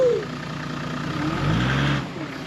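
A 4x4 camper van engine revving as it reverses on slippery, muddy ground, a mid-pitched motor hum that swells and strains before easing off, with a brief voice nearby.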